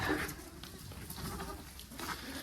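Goats on a homestead bleating close by, several overlapping cries rising and falling over a couple of seconds with no talking.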